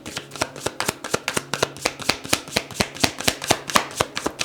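Tarot cards being shuffled by hand, a fast, even run of crisp riffling snaps, roughly four or five per second, close and clear with no voices.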